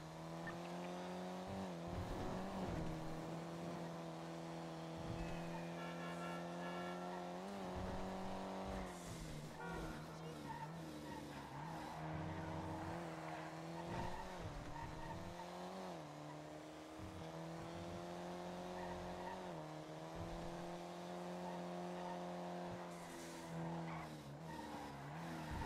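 A car driven in the GTA V roleplay server NoPixel, loud continuous engine drone rising and falling with revs, punctuated by repeated tire squeals and skids over about twenty-five seconds.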